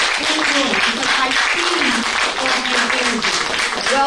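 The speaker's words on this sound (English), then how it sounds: "So I need some applause. Come on, y'all. Let me hear you." A conference audience at a forum session claps steadily throughout on a host's call for energy, while a voice talks loudly over the applause.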